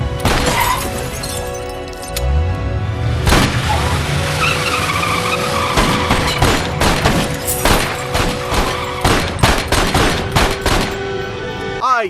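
Film gunfire from American History X, loud repeated gunshots cracking in quick bursts amid shattering glass, a skid-like sweep and chaotic action noise, dense and close throughout.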